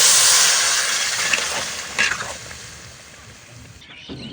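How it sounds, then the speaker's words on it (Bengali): Water poured into a pot of fried rice on a clay stove, a loud hissing sizzle bursting up at once and then fading over a few seconds, with a brief crackle midway. "এবার আমি পরিমাণ মতো পানি দিয়ে দিব।"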